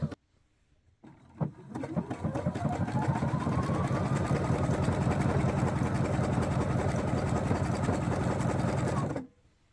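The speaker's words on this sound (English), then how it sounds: "So I'm going to go ahead and go down this with this stretch stitch, and then I will be back." A sewing machine runs steadily for about eight seconds, stitching a tiny stretch zigzag stitch along a baby car seat cover, loud and close with no talk over it.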